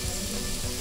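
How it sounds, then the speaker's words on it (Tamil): Mustard seeds sizzle in a spoonful of hot oil in a kadai, a dense, steady frying crackle heard alone and up close. "இந்த கடாயை வச்சு கொஞ்சம் ஆயில் ஒரு ஸ்பூன் போட்டு எண்ணெய் போட்டு கடுகு போடணும்"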